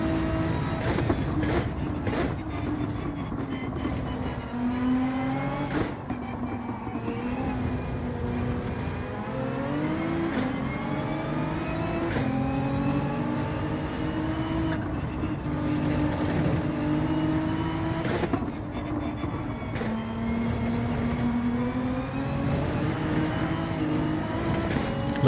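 A Nissan GT-R Gr.3 race car in Gran Turismo 7 drones steadily around Lago Maggiore, its engine note rising and falling through gear changes across a long continuous run, with occasional sharp clicks and bumps.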